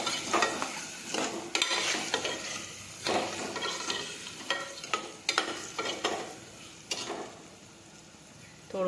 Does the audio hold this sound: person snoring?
no